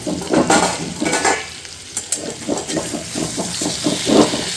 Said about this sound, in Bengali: আলুর দমের আলু এখন এখানে ভাজা চলছে